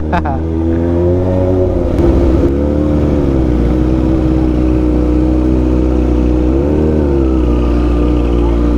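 A big bike motorcycle engine revs loudly and close by, holding a steady droning roar that swells and dips slightly over nearly nine seconds, with faint voices underneath.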